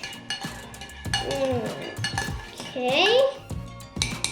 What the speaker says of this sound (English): And now we need to mix it up well.